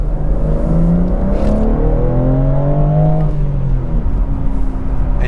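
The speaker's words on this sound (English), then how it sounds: "gargles, bubble from the exhaust, and the car is a lot more lively" A 2021 BMW M4 in active track mode runs with a deep, steady exhaust drone and a rising engine note, heard close and loud throughout, with the gargle and bubble from the exhaust blended into the continuous rumble.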